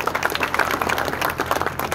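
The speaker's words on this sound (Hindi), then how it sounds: "एक बार जोर से तालियां बजा के दिखाओ सारे" A live audience at a talk by a man who has donated blood 104 times claps together, a dense burst of applause lasting a couple of seconds.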